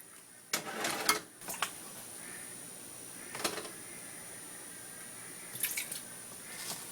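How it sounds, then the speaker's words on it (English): Spoon stirring bleach into a homemade bleach paste made with water, giving a few quiet, sparse clinks and scrapes against the bowl with near-silent pauses between. "I'm going to stir in 1 more tablespoon of bleach."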